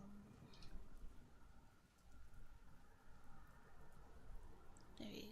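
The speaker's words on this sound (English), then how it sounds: "Is the rain sounds okay? Is it too loud?" Soft, steady rain patter with a faint hiss fills the background, quiet and continuous in an ASMR setting, with a brief rustle near the end.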